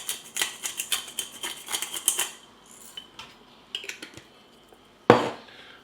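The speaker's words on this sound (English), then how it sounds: "To end it, you put black pepper on the top." Pepper mill grinding black pepper over a plate of spaghetti carbonara, a string of quick dry crackling clicks up close, then a few scattered faint ticks and one sharp knock at the end.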